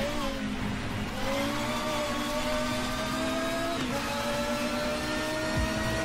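Super Touring estate car engine in the racing game RACE 07 at Knockhill, a steady loud drone with shifting harmonics as the car accelerates and changes gear, with no talk.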